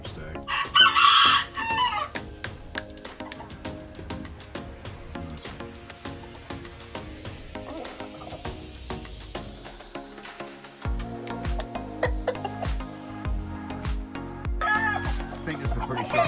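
A gamefowl brood stag crows on a farm in Ashland City, Tennessee, its calls loud and close near the start and again toward the end, with other birds clucking and someone talking throughout.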